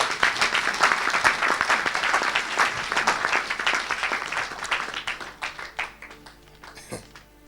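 A church audience applauds for Jesus, dense sustained clapping with some cheering that thins out and fades toward the end.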